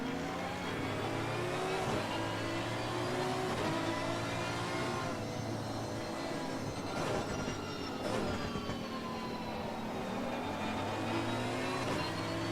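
A V12 race car engine in Assetto Corsa Competizione, racing at Bathurst, revs loud and close, its pitch climbing and falling through gear changes over a continuous drone.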